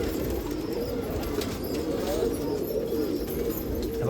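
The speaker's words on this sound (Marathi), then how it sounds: "हे बघा काही कबूतर." Low cooing from pigeons at a Nashik pigeon festival rolls on steadily beneath dense crowd-like background noise, with a hint of wing flutter.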